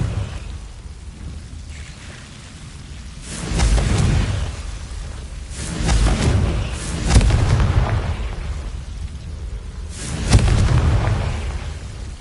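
Confringo spell blasts in the game Hogwarts Legacy, several heavy booming explosions swelling every few seconds over a constant rumbling, crackling background, loud and close with no talk.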